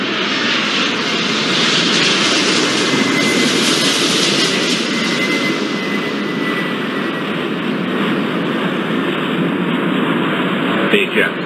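A jet airliner roars on takeoff in an air traffic control game, a loud, steady engine rumble and whine that holds throughout.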